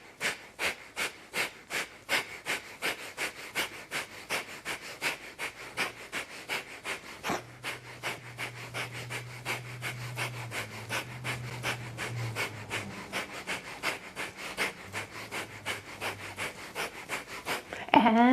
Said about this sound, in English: Inhale up, breath of fire.